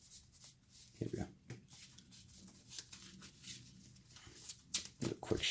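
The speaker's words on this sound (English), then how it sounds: "Do a quick shuffle." A deck of trading cards is quickly shuffled by hand, producing short bursts of crisp riffling and card slaps at close range, interrupted by quiet gaps and soft handling noises.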